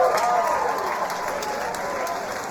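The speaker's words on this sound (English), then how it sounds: "Give the girls a round of applause, please" Crowd applause for the fighters at a SuperFight 11 combat event, a steady roar of clapping from the audience with a voice speaking over it through a PA.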